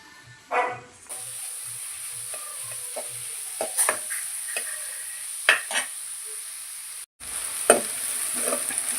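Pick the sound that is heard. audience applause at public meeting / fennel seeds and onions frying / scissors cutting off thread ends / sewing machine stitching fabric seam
fennel seeds and onions frying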